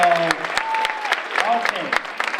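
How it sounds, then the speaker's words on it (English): Crowd applause at an MLK Jr. event, dense clapping with some voices and cheers mixed in over a short stretch. "another round of applause"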